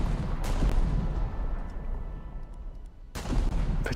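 The secondary guns of a Russian cruiser fire in a naval combat video game, producing booming shots with rumbling low-end tails, one near the start and another loud blast near the end.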